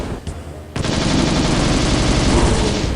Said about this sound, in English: It's easy enough to kill them with the super shotgun